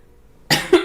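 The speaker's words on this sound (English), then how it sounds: "I still have some residual coughing, but it's really just a little bit that's still stuck in my throat." A single sharp cough from a person with lingering throat irritation, bursting out of near silence at close range, followed by a second, shorter cough.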